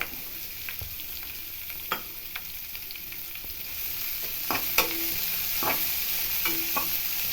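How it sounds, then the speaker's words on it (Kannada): Sliced onions, chillies and curry leaves sizzle steadily in a pan for a ridge gourd dal dish. A spoon scrapes and taps the pan now and then in sharp clicks over the constant close frying hiss, with no talking. "ಚೆನ್ನಾಗಿ ಫ್ರೈ ಮಾಡಬೇಕು ಈರುಳ್ಳಿ ಫ್ರೈ ಆಯ್ತಾ ಐತೆ"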